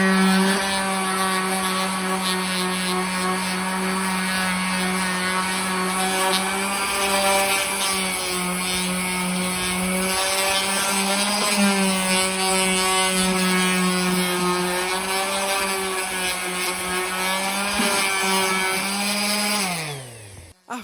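Power sander working the face of a classic Ford alloy wheel with 80 grit sandpaper to remove curb marks: a steady, loud, high-pitched motor whine with a constant abrasive hiss, running unbroken before winding down at the end.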